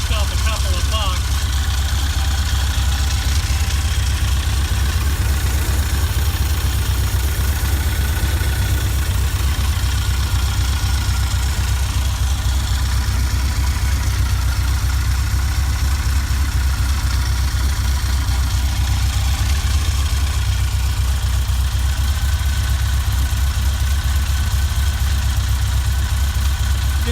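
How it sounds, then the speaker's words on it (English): An engine fitted with ICT carburetors idles steadily after a cold start, a constant low rumble that holds through the whole stretch with no talk over it. "that's a cold start right there, man"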